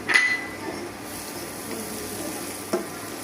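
Dried fish (shutki) is tipped into reddened fried onions in a pan for shutki bhorta and stirred, giving a soft, steady sizzle with a clatter at the start and a brief scrape near the end.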